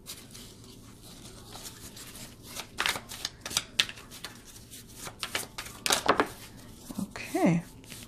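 Tarot cards being shuffled and cut during a reading, giving a quiet run of soft papery riffles and sharp slaps with a few brief louder flurries, close to the mic and low in level overall.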